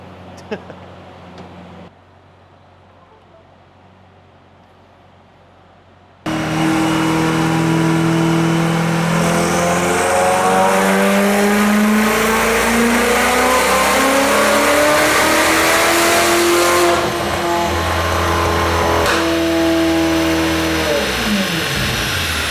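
A Ferrari 488 GTB fitted with upgraded turbos revs hard on a dyno, its loud engine note rising and falling in long sweeps after a brief quiet stretch, with voices beforehand.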